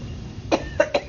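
Three short, sharp coughs close by, spaced quickly one after another, over faint background hiss.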